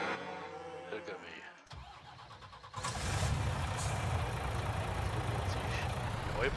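A truck engine in Farming Simulator 19 cranks over and catches, then settles into a steady, close rumbling idle.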